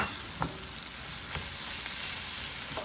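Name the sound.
garlic sautéing in a pan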